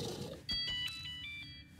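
A phone ringing in the video game Warframe, thin high electronic ringtone tones over a low ambient rumble, moderately loud and steady.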